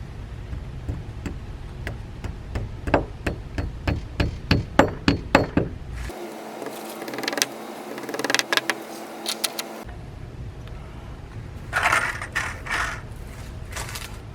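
Plastic wall anchors being hammered into freshly drilled holes during an RV 30 amp plug install, a run of quick close taps speeding up, a pause, then a few more scattered knocks, with no talking.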